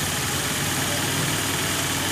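A carbureted Honda Vario 110 motorcycle engine idles steadily up close, a continuous loud rumbling drone with no change in pace.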